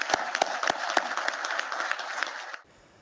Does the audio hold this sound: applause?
yes